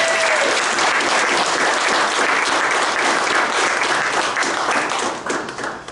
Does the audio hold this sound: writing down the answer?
no